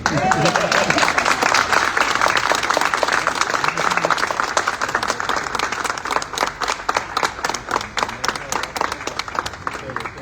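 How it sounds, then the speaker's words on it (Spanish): Lively applause and scattered individual claps fill a room at a book presentation in an athenaeum, voices calling out among the crowd as the clapping gradually thins into distinct, sharper claps. "Ahora sí pueden aplaudir."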